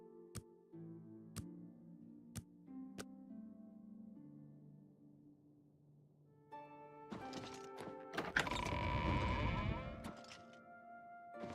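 A goat inside a hotel in the video game The Elder Scrolls IV: Oblivion Remaster gives a wavering bleat near the end, after a run of sparse knocks and clicks, with no voices.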